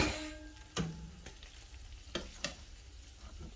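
Capers sizzle in a hot pan for a spaghetti alla puttanesca sauce, a soft continuous frying hiss broken by a few sharp pops and stirring clicks, close and quiet with no talking.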